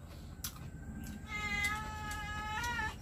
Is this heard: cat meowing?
yes